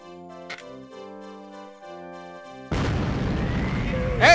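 A cannon in the Ripened Tingle's Balloon Trip of Love video game fires Tingle off with a sudden loud boom, followed by a sustained, dense roar and rushing whoosh after a stretch of tonal game music.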